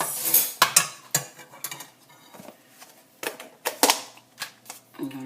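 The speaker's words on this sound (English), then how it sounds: "Let's stir all this in like this." Haitian plantain porridge being stirred in a pot, with distinct scraping and clanking spoon strokes against the metal arriving in irregular bursts, close and fairly loud, with no talking.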